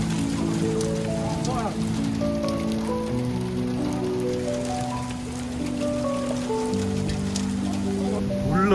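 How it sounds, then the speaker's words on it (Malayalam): Steady rain falls across the surroundings during a trip near Abha, Saudi Arabia, a continuous wash of drops heard throughout, with a voice speaking over it. "മഴ കിട്ടിയടാ, അവസാനം മഴ കിട്ടിയടാ."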